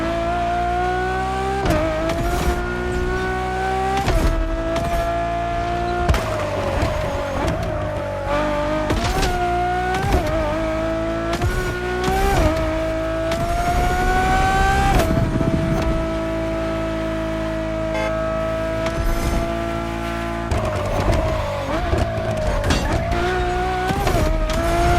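A Ferrari supercar racing in The Crew Motorfest, its engine roaring loudly and steadily with repeated gear shifts, revs climbing and dropping, and occasional brief tire squeals.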